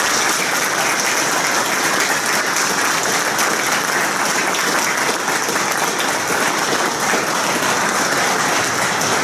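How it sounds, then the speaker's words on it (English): A crowd at a police retirement, promotion and swearing-in ceremony delivers a long, even round of applause honoring the recipients, dense, loud and unbroken for over nine seconds with no talking. "if we could we give a round of applause to all of those who were honored here today?"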